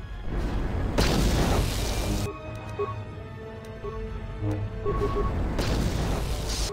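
Two heavy grenade explosions in a video game boom loudly, roughly four seconds apart, each a broad blast that trails off into a rumble, with game sounds in the quieter gap between them.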